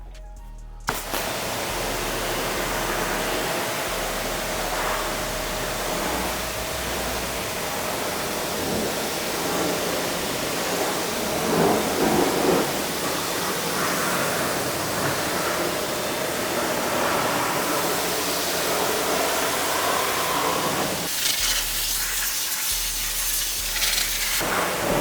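A water spray rinsing a car during a pre-wash, heard as a loud, steady, close hiss of rushing water that runs continuously for about twenty seconds before cutting off near the end.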